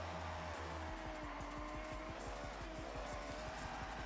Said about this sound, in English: That made like no difference to the noise of the car.